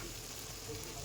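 Green chillies fry in a pan for Italian pasta, giving a faint, steady hiss of sizzling oil throughout the short moment.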